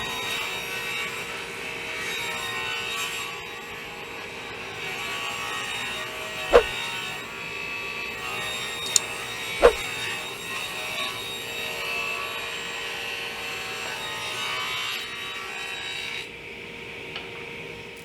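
Wood is sawn into two strips 2.5 inches wide, with a steady, fairly quiet whirring drone and a couple of sharp knocks partway through. No one speaks.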